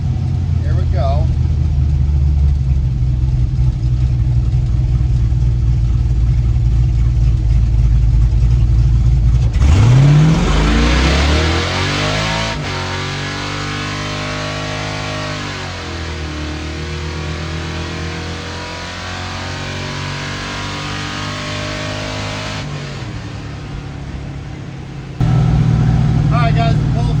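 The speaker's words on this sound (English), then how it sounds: "I'll do a quick like second, third gear pull." A car with a newly fitted intake pulls hard through second and third gear, the engine note rising steeply, dropping at the shift, then climbing again loud and close from inside, with a voice speaking at times over it.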